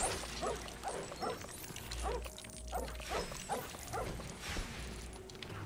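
A dog in the LEGO Harry Potter video game barks in a steady series of short, evenly spaced yips, about eight in a row, set over constant game music and a low background hum.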